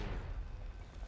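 A mortar shell blasts in the video game Medal of Honor 2010, a single deep, rumbling boom that fades out within about a second, with no voices over it.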